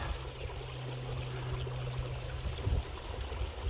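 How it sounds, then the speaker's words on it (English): A mountain creek flows at a trail crossing in Bues Canyon on the way up Mt. Ogden, giving a steady, faint rushing trickle with a low hum in the background. "This is our last creek crossing and last reliable water source"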